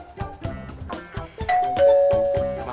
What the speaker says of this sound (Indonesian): Maaf Pak, ada bel.